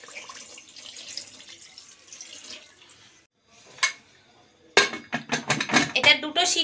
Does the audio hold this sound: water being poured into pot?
yes